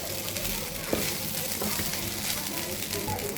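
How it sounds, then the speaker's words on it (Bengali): Fried rice with ghee being stirred in a hot pan: a steady, dense sizzle with soft scraping movements throughout, close and fairly even in loudness. "ঘিটা দিয়ে আমি ভালো করে নেড়ে নিচ্ছি।"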